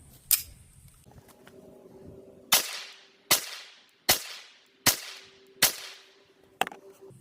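.22LR Remington Golden Bullet 36-grain hollow points fired from a 3.5-inch SR22 pistol: after a click and a low hum, five sharp cracks about 0.8 s apart and one more, loud and close, each with a brief decay.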